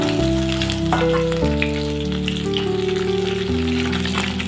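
Pieces of katla fish fry in hot oil until crisp and reddened, a loud, continuous close sizzle with steady crackle, heard over background music and without any talking.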